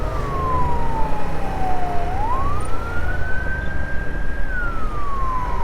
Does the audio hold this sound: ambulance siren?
yes